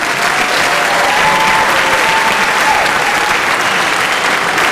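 Loud, sustained applause from a large crowd at a high school graduation ceremony, a dense continuous roar of clapping with a faint whistle-like tone running through it.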